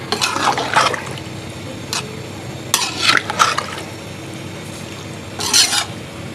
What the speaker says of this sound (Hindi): इसको अच्छे से हिला देंगे ताकि सारे चावल जो है हमारे पानी के अंदर चले जाएँ।